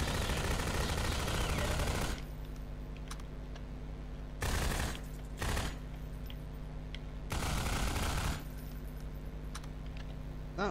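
SMG gunfire aimed at headcrabs in Half-Life 2: Episode 1 rattles in four separate bursts, a long opening spray followed by shorter ones, loud and close against a quiet hum between volleys.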